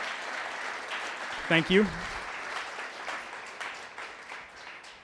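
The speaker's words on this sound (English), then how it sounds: "can we give a huge round of applause for financial sponsorship?" An audience at the NYC School of Data conference gives a steady round of applause for the event's financial sponsors, with a voice briefly speaking over the clapping partway through.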